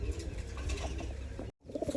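Pigeons of a racing flying bloodline cooing softly in a loft, a steady low murmuring coo with faint chirps, briefly cut to silence near the end before resuming.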